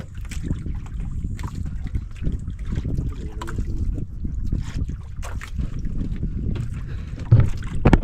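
Gusty wind buffeting the microphone with a low, rumbling roar that rises and falls, plus faint splashes of water nearby.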